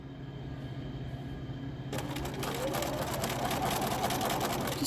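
A sewing machine starts up after a quiet hum and stitches steadily around the edge of a bouffant scrub cap, its fast, even chatter close and moderately loud for the last few seconds.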